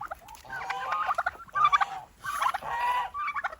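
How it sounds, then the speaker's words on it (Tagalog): Two turkeys gobbling in several quick, overlapping bursts while fighting, close by, with agitated rattling calls. "dalawang pabo naman yan."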